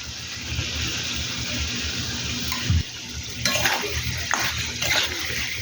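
Chicken kosha stirred and fried in a pan, with a steady close sizzle broken by scraping spoon strokes and a few louder clatters, no voices.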